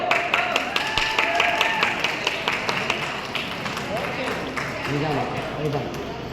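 Guests at a baby shower clap in a steady patter of many hands, moderately close, running under continuous talk and background chatter from the gathering.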